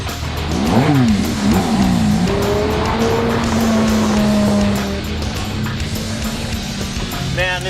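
A red Ferrari sports car drives past with loud engine revving that rises in pitch through quick gear changes, then holds a steady drone before fading under road and crowd noise.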